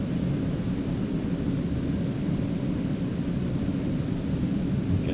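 Eclipse 550 business jet climbing after takeoff in X-Plane 11, a steady broadband engine roar with a faint high whine, constant and unbroken, no talk.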